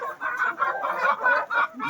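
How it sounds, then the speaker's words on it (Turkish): Hens and young roosters in a backyard coop cluck in a steady run of close, overlapping calls, each lasting a fraction of a second, with only brief gaps between them. "Çok güzel horozlarımız var"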